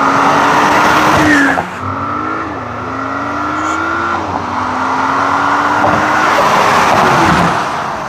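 A Porsche Cayenne GO FAST accelerates hard from a launch. Its loud engine note climbs through several gear changes, with tire noise and a steady roar close by.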